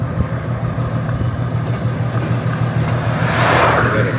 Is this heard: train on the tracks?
yes